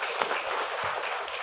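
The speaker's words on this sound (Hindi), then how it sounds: "वो 4 आत्माएं, उनके लिए भाई ताली बजाओ" Crowd applause at a Brahma Kumaris spiritual class in Shantivan, Mansarovar, clapping for four souls honored while standing; a steady, dense wash of many hands clapping at a distance, continuous and even throughout with no talk.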